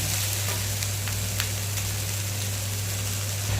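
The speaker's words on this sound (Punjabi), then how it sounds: "ਜਦ ਤੱਕ ਜਿਹੜੇ ਪਿਆਜ਼ ਤੇ ਸਾਡੇ ਬੈਂਗਣ ਹੈਗੇ ਉਹ ਪੱਕ ਰਹੇ ਆ" Onions and eggplant sizzling in a pan, a loud continuous crackling hiss with occasional pops, close up over a steady low hum, with no voices.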